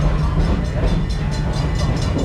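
The Serengeti Express train at Busch Gardens Tampa rumbles loudly and steadily along its track, with a rhythmic clickety-clack of wheels over rail joints under a continuous low roar.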